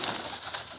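Pigeons cooing in a soft, continuous murmur of low calls, close by and fairly quiet, with no voices over them.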